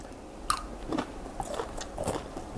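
Close, crunchy bites and chewing of crispy fried chicken stir-fried with cashew nuts and sweet chili, several distinct crisp crunches in a quiet room.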